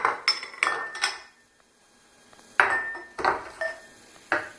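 A bowl is lifted and set back down during bath dye making, giving a cluster of close clinks and knocks, a quiet pause, then another run of sharp tabletop clatters.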